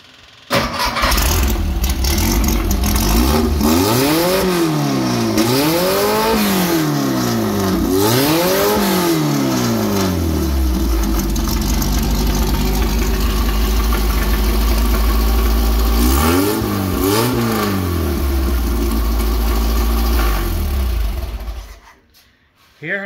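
A Chevy engine with a triple-carburetor tri-power setup and HEI ignition starts and runs loudly up close, revving up and down several times in rising and falling sweeps before settling and shutting off.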